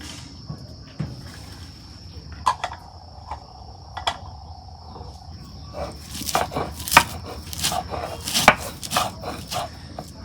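Sharp pounding and crushing knocks as crisp fried dried fish is crushed on a flat grinding stone, sparse at first and then quicker and denser, with a steady high insect chirp behind.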